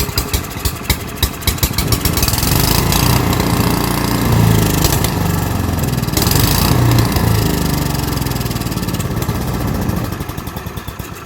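A new-old-stock 1972 Briggs & Stratton 8hp cast-iron engine with the choke on sputters to life, then settles into a loud, steady, close running roar with a slightly uneven beat; no one talks.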